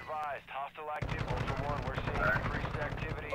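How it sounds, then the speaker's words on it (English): Automatic sentry gun in Call of Duty DMZ opens fire in a rapid, sustained burst of shots after a brief stretch of talk, the gunfire loud and continuous to the end. "Watch out, sentry gun."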